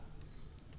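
Faint keystrokes on a computer keyboard as code is typed, a few quick clicks in under a second with no speech.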